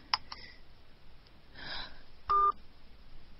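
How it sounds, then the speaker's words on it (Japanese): Telephone tones sound as a phone call is hung up: a short click, then brief electronic beeps and a steadier tone near the end, fairly quiet and without talk. "お電話を切らせていただきます"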